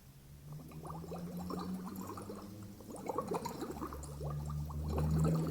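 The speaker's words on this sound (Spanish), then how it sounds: "sonido de burbujas, que pueden ser las burbujitas del mar cuando la ola llega y rompe" Water bubbles steadily as air is blown through a small tube into a little jar, a soft continuous gurgling that grows louder toward the end, heard close and alone without speech.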